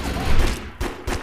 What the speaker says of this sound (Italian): Chi è che spara adesso?